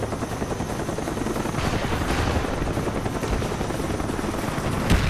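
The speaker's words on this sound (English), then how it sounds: "Friendly spy plane inbound." A spy plane drones overhead in the Call of Duty Black Ops video game, a loud, steady whirring rotor roar that fills the whole stretch, with a brief thump near the end.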